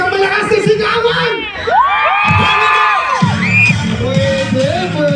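Festival crowd at Barako Fest 2025 shouting and cheering loudly, with whoops and rising yells from many voices, children's shrieks among them, swelling and overlapping for several seconds close to the listener.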